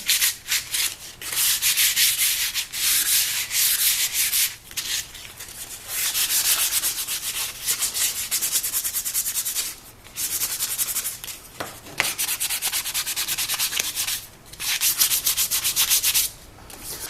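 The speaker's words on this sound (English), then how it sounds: "So we'll sand that end." Sandpaper rubbing the end of a hand-carved wooden spoon, steady close scratchy strokes in long bursts with brief pauses between them, no voices.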